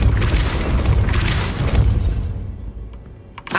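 A Depulso spell blast in the Hogwarts Legacy video game lands as a loud, deep booming impact with a rumbling crash that rolls on and fades over a few seconds, followed by small scattered clinks.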